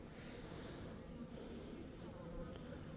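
Asian honeybees swarm around an opened hive on a warm February day, making a dense, steady hum that stays even for the whole stretch, close but fairly soft, with no clear voice over it.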